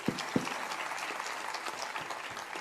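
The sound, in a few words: audience applause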